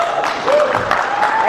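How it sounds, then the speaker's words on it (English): Audience applause at a comics convention panel marking Superman's 80th anniversary, a brief, dense burst of clapping with whoops mixed in. "these guys deserve that kind of applause"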